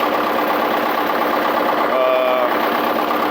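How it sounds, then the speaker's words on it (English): A John Deere 440 skidder with a rebuilt but still imperfect motor runs at a steady idle, a loud continuous engine drone with a brief whine partway through. "I've had the motor apart, but as you can see, it still ain't perfect."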